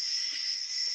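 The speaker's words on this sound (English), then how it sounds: "Those are the most monotonous fucking crickets I've ever heard in my life." Crickets chirping in a steady, high-pitched monotonous trill, continuous and fairly close, with nothing else around it.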